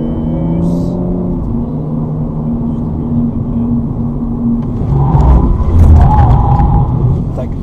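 BMW M235i with 326 hp accelerating on a test circuit during an avoidance exercise, a steady rumbling engine drone that swells louder near the end, with an instructor's voice talking over it.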